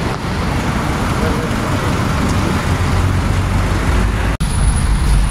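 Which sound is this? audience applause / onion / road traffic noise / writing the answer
road traffic noise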